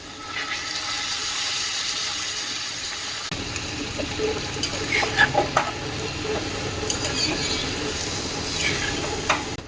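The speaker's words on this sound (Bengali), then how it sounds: "আমি এখন চালগুলো দিয়ে দেবো" Basmati rice tipped into a hot frying pan and stirred for vegetable pulao, a steady sizzling, scraping stir close up with a sharp rattle as the grains hit the pan partway through, no talking.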